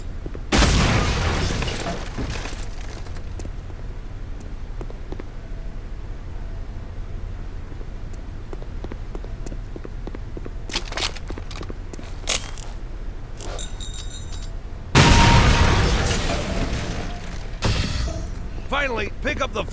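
A grenade explosion in Counter-Strike: Condition Zero, a loud booming burst near the start and another heavy blast near the end, with mechanical game clicks and handling noises between.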